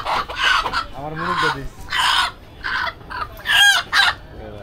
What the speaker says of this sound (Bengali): তো এটা হলো মুরগ বাজার।